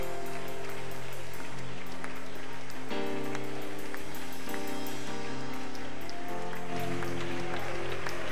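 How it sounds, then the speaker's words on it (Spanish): Congregation applause during an evangelical church sermon, steady clapping heard beneath sustained music with shifting chords, fairly even throughout. "todos denle un aplauso al más grande de la confraternidad"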